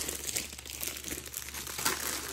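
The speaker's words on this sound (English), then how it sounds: "So it all comes in this resealable dust cover bag." A resealable plastic dust cover bag from a diamond painting kit crinkles and rustles continuously up close as it is handled, with no speech.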